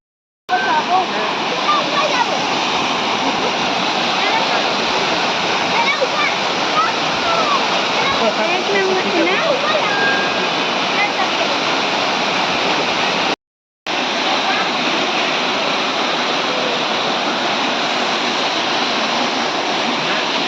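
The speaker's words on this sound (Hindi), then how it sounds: "दुर्गा धारा झरना है।" Steady roar of the Durga Dhara waterfall at Amarkantak, Chhattisgarh, continuous broadband rushing water close by, with a brief dropout midway.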